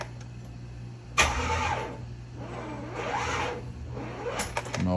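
A truck engine cranks repeatedly on a dead battery, three separate bursts of whirring starter turnover that never catch, each cutting off between short pauses.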